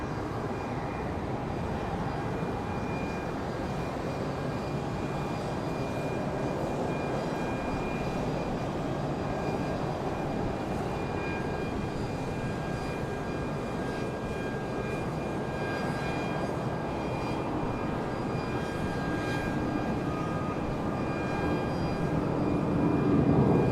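Jet aircraft at Charlotte Douglas International Airport on a windy day: a steady, broad engine roar with wind rush runs continuously, swelling slightly toward the end, heard from a distance with no voices.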